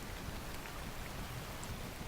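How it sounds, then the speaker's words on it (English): Steady, dense rainfall played as background ambience during a cozy game stream, an even wash of patter with no pauses, moderately quiet. "I put my own rain for you guys to hear."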